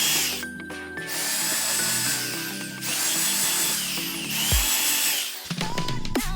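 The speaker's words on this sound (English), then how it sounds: "Then to countersink the holes," A power drill countersinks screw holes in a dense wood garden bench, whining in several loud bursts that rise in pitch, each bite into the wood separated by short pauses.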